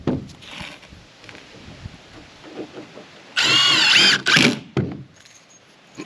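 A cordless power drill drives a screw on a construction site, whirring loudly up close in two bursts of about a second each, its pitch rising as it bites, with faint background bumps and handling noise before and after.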